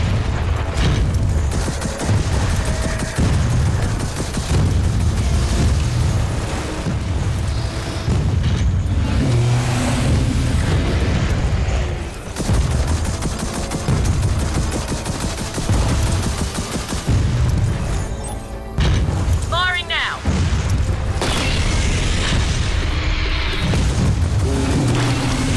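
Heavy booming explosions and rolling gunfire from a Gears of War 4 battle, dense and loud throughout, with repeated deep blasts and bursts layered over a continuous roar of combat and engine-like rumble.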